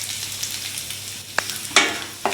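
Turmeric, chili powder and salt sizzling in a hot frying pan, a steady close hiss with a few sharper crackling bursts as the spices hit the oil, no talking.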